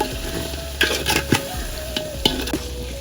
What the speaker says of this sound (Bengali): আলু ভালো লাগে ভেজে নিচ্ছি